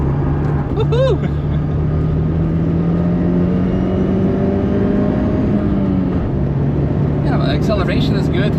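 An Opel GT sports car engine drones loudly and steadily on the Nürburgring, its pitch slowly rising as it accelerates, with a low hum throughout and brief squeaks near the start and end.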